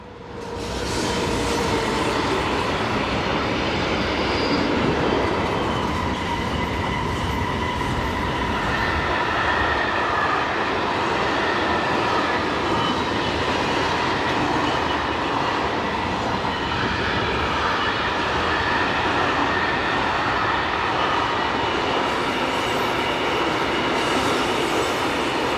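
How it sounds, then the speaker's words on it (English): A freight train on the Rhaetian Railway rolls past heading south at dusk, a loud, steady rumble and roar of wheels and cars that holds for the whole stretch with no voices. "number 26217 returns south with a freight from Wapi to Sibulin"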